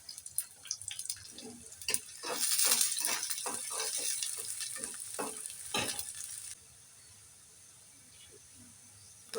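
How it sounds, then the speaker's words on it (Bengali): Chopped garlic and onions fry in hot oil in a pan for a lemon pickle dal, a close, crackling sizzle punctuated by stirring clicks that drops to a faint hiss toward the end. "রসুন দিয়ে দিচ্ছি, পেঁয়াজগুলো লাল করে ভাজা করে।"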